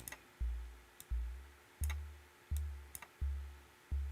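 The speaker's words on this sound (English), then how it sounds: "And there we go, and I have like an 808 style kick drum." An 808-style kick drum synthesized in Pigments thumps six times at an irregular rhythm, each hit a deep booming tone with a sharp click and a quick decay, heard alone and fairly quiet.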